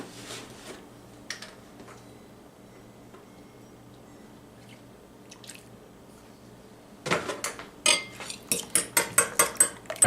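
A utensil stirs milk into eggs for an omelette. A quiet stretch with faint ticks gives way to a run of sharp, rhythmic clinks against the bowl near the end.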